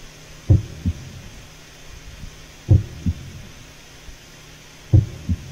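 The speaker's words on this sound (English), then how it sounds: "I just hear this heartbeat in the background." A slow, steady heartbeat thuds in the background of a creature scene, landing as double-beat pulses roughly every two seconds over a low hum, with no talking.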